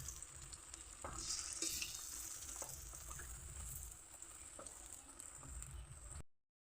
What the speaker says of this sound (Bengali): বেসনের চুপ দিয়ে তেলের ভিতরে ছেড়ে দিলাম, দুটো তিনটে।